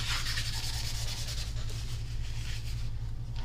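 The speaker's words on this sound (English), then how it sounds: "the more I rub on it, the more it blends" Ink color being rubbed onto the edge of a paper card to blend it, a steady close scratchy rubbing in quick repeated strokes over a low hum, with no talking.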